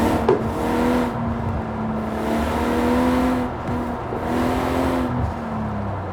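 A BMW M4 Coupe engine and exhaust drones steadily and loudly throughout, its tone swelling and easing as the revs rise and fall.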